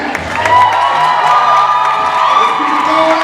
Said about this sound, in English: Let's keep the applause going for the poet for winning.